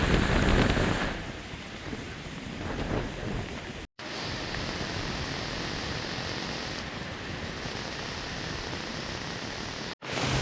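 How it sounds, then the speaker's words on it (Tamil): Strong cyclone wind roars steadily across Jaffna, a loud broadband rush close to the microphone, with gusty buffeting. No voices are heard. "அவ்வளவு காற்று வந்து அகோரமாக வீசிக்கொண்டிருக்குது"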